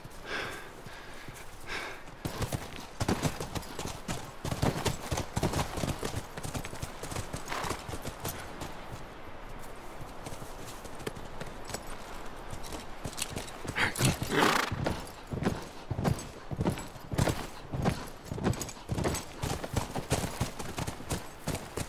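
Horse hooves clip-clop steadily at a walking pace, with an occasional whinny and snort, in the video game The Last of Us Remastered.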